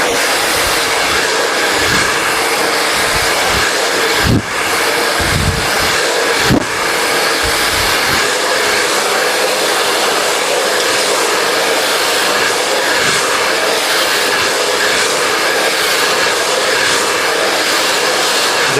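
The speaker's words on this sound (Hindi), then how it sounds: "तो सबसे पहले ऊपर से ड्रायर करेंगे इस तरीके से" A hair dryer blows steadily and loudly throughout an inward-turn blow-dry on a razor or feather haircut, a constant close rushing roar broken by a couple of brief dips as the airflow shifts.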